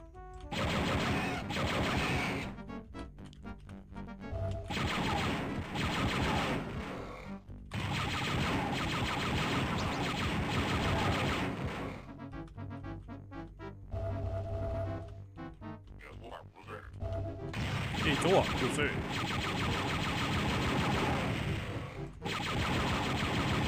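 Gunfire and grenade blasts from the video game Star Wars: Dark Forces come in loud, dense bursts with short gaps between them, alongside game music and effects.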